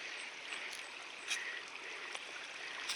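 A small stream runs beside a muddy uphill path with a quiet, continuous rushing flow and faint ripples, heard alone.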